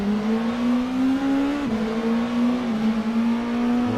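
A race car engine drones steadily at high revs during the 2.4 Hours of Interlagos in a racing game, with a brief dip and wobble in pitch as the car locks its brakes.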